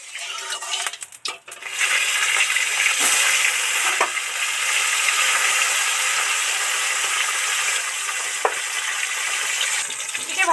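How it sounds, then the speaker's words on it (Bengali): Bhola fish deep frying in hot oil in a wok on a gas stove, a loud steady sizzle after a few opening clatters, with occasional clinks of the utensil against the wok. "মাছগুলো ডিপ ফ্রাই করে ভেজে নিলাম"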